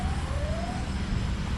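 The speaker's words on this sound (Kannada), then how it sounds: "ಸೈರನ್ ಸೌಂಡ್ ಬರ್ತಾ ಇದೆ, ನಾಟ್ ಶ್ಯೂರ್" A faint emergency vehicle siren wails in the distance near a road underpass under railway lines, a thin tone rising and fading over a steady wash of traffic noise.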